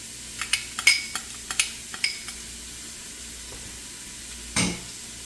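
Ginger and aromatics hit a hot pan, with a series of sharp utensil clicks and scrapes followed by a short, bright sizzle burst near the end over a quiet kitchen background.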